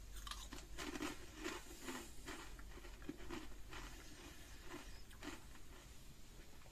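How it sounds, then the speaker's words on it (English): Someone chews roast beef and Yorkshire pudding flavoured crisps close up, with quiet repeated crunches and creaky bites over several seconds and no talking. "These are really nice. They're really crunchy."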